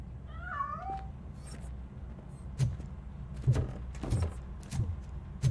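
A cat in the RoboCop Rogue City video game gives a short rising meow near the start, followed by scattered knocks and shuffling thuds as it moves through a room; no talking.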